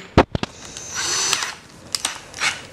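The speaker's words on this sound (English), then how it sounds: "So when you're drilling the top of the holes," Power drill boring holes through a scooter deck, a steady whining buzz of about a second after a few sharp knocks, then short bursts and another brief whir close by.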